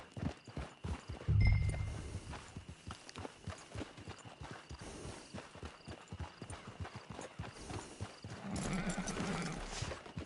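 Horse hooves clip-clop steadily at a walking pace, with a loud whinny near the start and another neigh toward the end.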